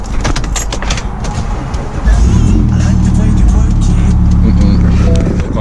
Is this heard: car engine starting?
yes